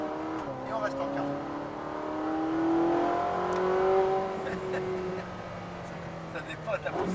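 A Ferrari 458 Italia accelerates on the Pau-Arnos race circuit, its engine note climbing through the gear and then easing off, heard from inside the car with people talking over it.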